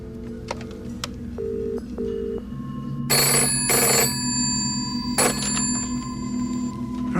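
A speed-dial call to a landline: a few short dial beeps, then a telephone rings in loud, clear bursts over a low steady hum, with no talking.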